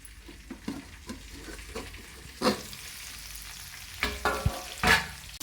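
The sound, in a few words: fish frying in a covered pan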